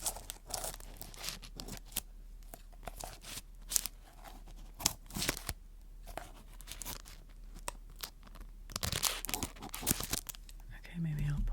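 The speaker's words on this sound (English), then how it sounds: "Okay, I'm going to cut, and we'll cut the plastic up." Scissors snip and crinkle through plastic packaging around a mystery-box plushie, a series of close, quiet cuts and rustles with soft whispered talk in between.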